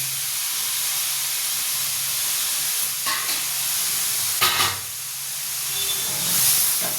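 Tomatoes sizzle and hiss steadily in a hot pan, cooking down for a ridge gourd chutney, with a couple of brief louder spits and stirring scrapes partway through.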